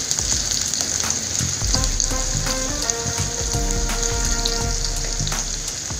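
Carrots sautéing in a hot pan for vegetable fried rice, a steady close sizzle and crackle of frying with occasional stirring scrapes, continuous throughout with no talking.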